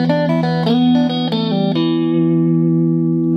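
Electric guitar plays a fast blues shuffle lick in E, a quick run of picked notes ending on a long ringing chord that slowly decays, with reverb and light effects.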